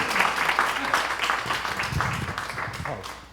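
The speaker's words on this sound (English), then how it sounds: "Give them a round of applause, ladies and gentlemen" A seated audience at a panel event on mental health in LGBTQ communities of color gives a round of applause, a steady wash of mid-sized clapping with a voice speaking over it.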